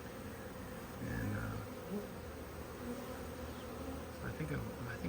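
A large honeybee swarm hangs in a garden tree, making a constant dense buzz with individual bees droning nearer and farther as they fly past.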